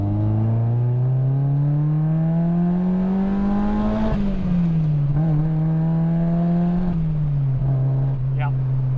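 A car fitted with a GRacing short shifter drives with its engine droning up and falling back as gears change. It is close and steady, with a faint clunk near the end.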